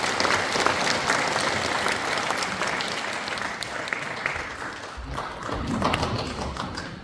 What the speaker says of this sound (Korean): 박수로 성원 드리겠습니다.